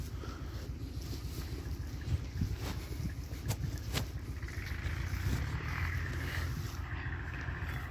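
A tractor-drawn manure spreader runs on a farm field with a steady low engine rumble and churning, close and continuous, while wind buffets the microphone.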